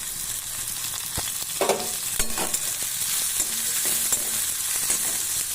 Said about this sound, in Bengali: ঝিঙ্গা আলু পেঁয়াজ তিনটাই একটু ভালো করে ভেজে নিয়েছি এরপর দিয়ে দিলাম কাঁচা লঙ্কা